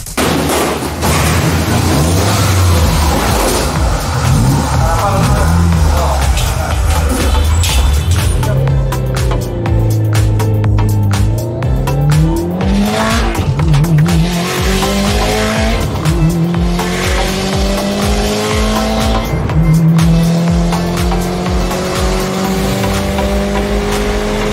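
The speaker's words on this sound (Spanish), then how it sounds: "vamos a sacarlo de un pisoncito por la calle" Tuned 500 hp Nissan GT-R driven hard on a street, engine revving up through gears with rising and falling pitch, tire squeal and loud close acceleration throughout.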